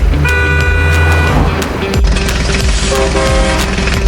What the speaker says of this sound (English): T for tow truck.